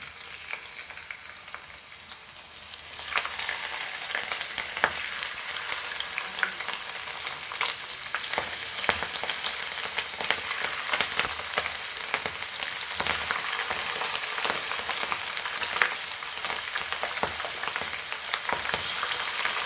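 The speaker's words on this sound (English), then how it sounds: "So the oil is hot, and let's fry this." Potato peels fry in hot oil for crispy Goan peel chips, a continuous dense crackling sizzle that swells after a quieter start and holds steady, with no voices.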